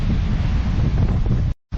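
Strong hurricane wind from Hurricane Ian in Orlando, Florida, roaring and buffeting the microphone as a heavy low rumble, briefly cutting out before gusting back.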